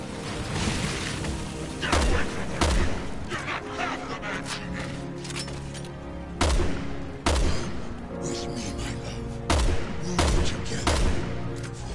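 Gunshots in a PS4 video game, loud booming reports at irregular intervals over a dense, busy game soundtrack, with a voice talking at times.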